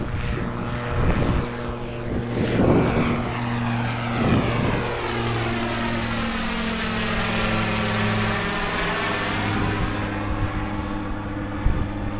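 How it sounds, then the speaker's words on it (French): A gyrocopter taking off at the Longuyon aeroclub airfield in Lorraine, its propeller engine droning steadily and loudly as it passes close and then pulls away, the tone shifting as it goes. "Il y a le gyro qui vient de décoller."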